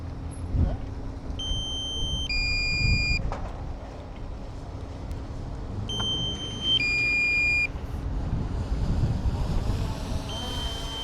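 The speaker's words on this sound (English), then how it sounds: "It keeps saying strong wind warning." A flying drone sounds its strong wind warning in bursts of clear, high electronic beeps, two runs of stepped tones a few seconds apart, over steady outdoor wind noise.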